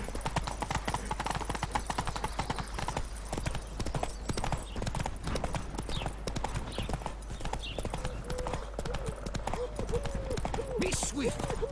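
A horse gallops in The Witcher 3: Wild Hunt, a fast, rapid run of hoofbeats pounding continuously and up close, with a voice speaking over it near the end.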